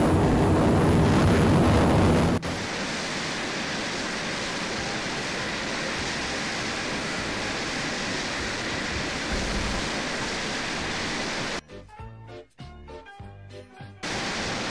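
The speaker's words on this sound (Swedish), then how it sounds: "Han bara så kör ett flygplan." Airplane in the military game Arma 3: a steady, loud broadband roar of engine and airflow holds for most of the stretch, opening with a harsher burst and breaking into choppy, stuttering bursts near the end.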